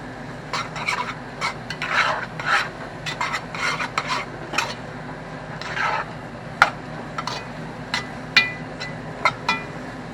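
Catfish with Creole Cajun seasoning being stirred in a pan, a run of scraping, rasping strokes with intermittent sharper clinks, close and moderately loud, no talking.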